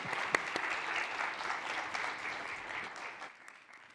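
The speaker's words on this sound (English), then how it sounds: "let's give another huge round of applause to our panelists" An audience at a CES 2026 panel applauding its panelists, a dense burst of clapping with a few sharper claps that fades toward the end.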